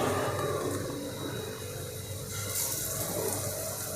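Steamed vaap vada pieces laid one by one into hot oil in a pan, giving a steady, close, fairly loud sizzling hiss that runs unbroken with no voices over it.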